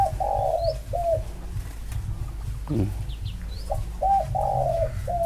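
A spotted dove with a mid-range voice gives two short cooing phrases, a quiet gap, then more cooing, with a low hum and a faint thump in the background.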